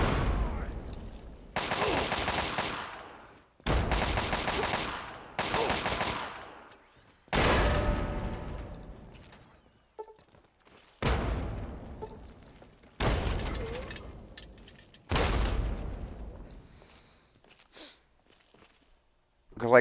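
Grenade explosions and gunfire in the video game Fallout 3 come as a series of about eight loud, crashing bursts, each trailing off before the next, with short quiet gaps between them.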